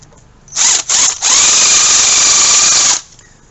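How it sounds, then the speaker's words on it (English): Power tool tightening a hose clamp onto a fitting while fitting an oil catch can on a 2018 Ford F150 EcoBoost: a loud, close whirring burst, two brief stops, then one steady run of about two seconds. "Put the hose clamp on like so to the fitting."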